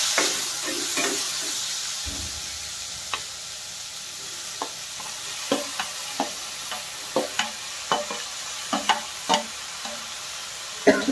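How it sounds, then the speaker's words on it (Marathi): Chopped tomatoes drop into a hot pan for a quick tomato sabzi, a steady sizzle running throughout while a spoon scrapes and knocks against the pan in a loose, irregular rhythm, growing busier in the second half. "यानंतर आपण हे आपले कापून घेतलेले टोमॅटो टाकतो"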